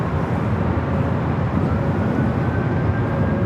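An Air Cargo converted Boeing 767-300ER takes off from runway 25 Left at LAX, a loud, steady, continuous jet roar filling the whole stretch with no pauses and no voices.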